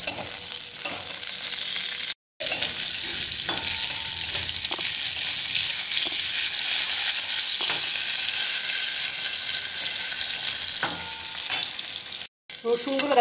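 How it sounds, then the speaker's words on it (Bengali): Garlic frying in hot oil until reddish, a continuous crackling sizzle with occasional stirring clatters and pops, close and steady with brief silent gaps. "এগুলো আমি একটু লাল লাল করে ভেজে নিই।"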